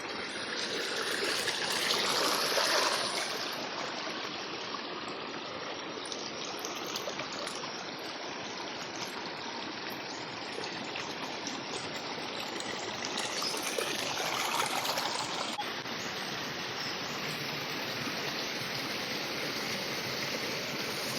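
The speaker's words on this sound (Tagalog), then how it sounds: "Ito po yung ilog na maliit." A small river flows in a steady, rushing wash of water, continuous and fairly close, with faint swells in strength and no talking.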